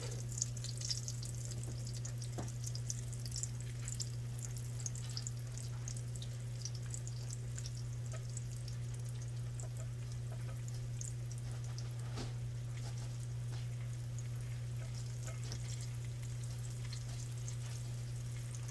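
Steady crackling sizzle of breaded cauliflower frying in a pan, continuous and close, over a low constant hum, with occasional soft pops.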